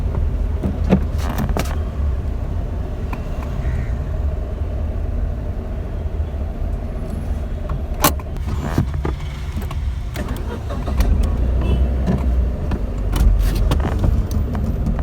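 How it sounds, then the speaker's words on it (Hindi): A Tata Nano's engine pulls away under the accelerator as a steady, loud low rumble heard from inside the car, with small rattles and clicks and a slight rise near the end. "थोड़ा एक्सीलेटर के साथ ही स्टार्ट कर देता हूँ और स्मूथर पिकअप।"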